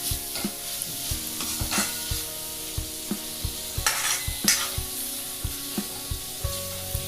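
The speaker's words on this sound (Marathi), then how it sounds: "दोन 3 मिनिटं चांगलं परतून घेऊ." Misal masala with curry leaves sautéing in a pan, giving a steady close sizzle with repeated scraping and stirring knocks throughout.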